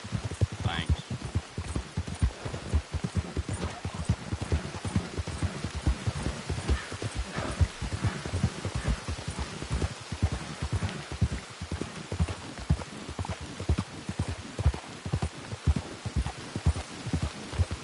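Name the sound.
horse hooves clip-clopping in rain, Red Dead Redemption 2 video game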